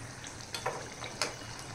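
Ajwain-flavoured mathri snacks fry in hot oil with a soft, steady bubbling hiss and a couple of brief clinks or scrapes, close but quiet, and no talking.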